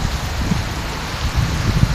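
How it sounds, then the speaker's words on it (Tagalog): Steady rain falls in a continuous soft wash, with low rumbling patter underneath and no voices. "umuulan"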